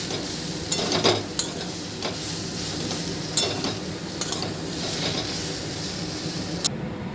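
Prawn chop filling is mixed with biscuit crumbs, giving a steady scraping and stirring sound with a soft background hiss and several sharp clicks of the spoon against the vessel, close and moderately loud.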